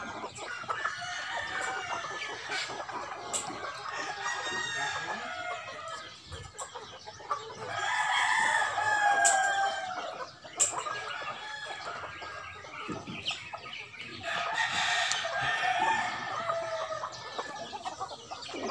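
Backyard chickens cluck continuously close by while roosters crow repeatedly through the flock's steady chatter, loud and busy, with no talking.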